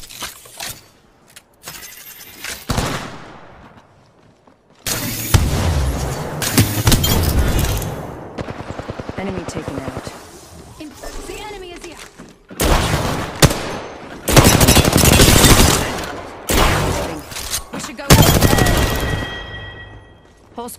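Rapid bursts of gunfire from an Apex Legends firefight, arriving in several loud clusters separated by short lulls, with sharp cracks and some metallic clinks mixed in.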